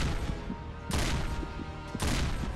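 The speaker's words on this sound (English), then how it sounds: "I keep on shooting him!" Gunfire in the Four Nights at Fear mobile horror game: two loud, harsh bursts about a second apart over a dense, noisy game backdrop.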